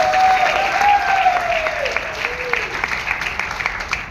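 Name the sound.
audience applause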